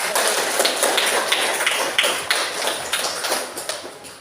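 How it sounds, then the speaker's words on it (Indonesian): A classroom of students applauds a group presentation, a dense, steady patter of many hands clapping together for about four seconds, fairly close and loud, thinning slightly toward the end with no talk over it. "Kita beri aplaus untuk kelompok 2."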